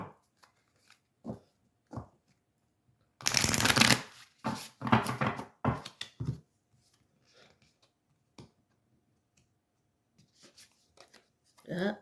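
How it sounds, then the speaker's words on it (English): A deck of tarot cards is riffled and shuffled in quick bursts, with soft taps and faint rustles between, close by in a quiet room. "Okay, last shuffle, guys."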